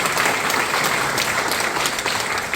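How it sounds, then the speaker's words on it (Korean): Church congregation clapping together during a mission training gathering, a dense, continuous round of applause filling the room throughout, loud and even. "여러분 우리 빛나교회 서리 집사님들에게 박수 한번 보내겠습니다."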